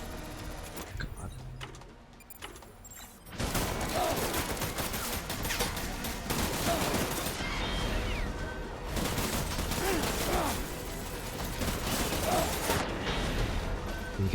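Bursts of gunfire in the video game Death Stranding, a sustained fusillade with mechanical clanks layered over music, loud and dense after a quieter opening.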